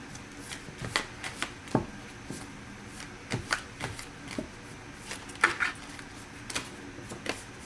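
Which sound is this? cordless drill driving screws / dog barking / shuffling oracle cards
shuffling oracle cards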